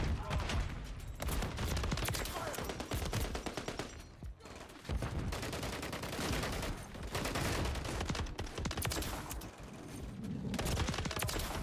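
Rapid bursts of Renetti pistol fire with a conversion kit in Modern Warfare 3, dense and loud across the whole stretch, with short pauses between volleys amid a busy game soundscape and occasional voices.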